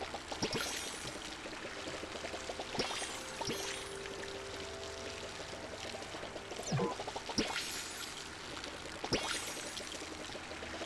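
An upgraded watering can pours water over crops in the cozy video game Palia, a steady splashing stream broken by a few brighter splash bursts and faint chimes.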